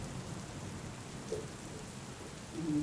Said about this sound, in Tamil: மழை வேற பெய்யுது